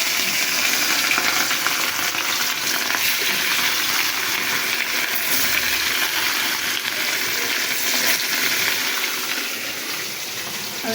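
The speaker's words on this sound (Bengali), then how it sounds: "এখানে আমি মাছ ভুনা করব, সেজন্য মাছগুলোকে আগে ভেজে নেব।" Fish pieces rubbed with salt and turmeric frying in hot oil, a loud, dense, continuous sizzle that holds steady the whole time and eases slightly near the end, with no talking.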